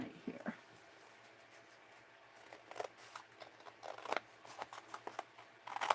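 Scissors snip through paper in scattered, close, crisp cuts, sparse at first then coming in quicker clusters toward the end over a faint low hum.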